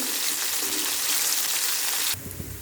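Tengra fish fries in hot oil with a dense, steady crackling sizzle, close and loud, which drops off abruptly near the end.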